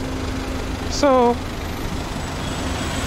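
A Peugeot 407 Coupe with a manual gearbox idles with a steady low drone throughout, while someone speaks a single brief word early on.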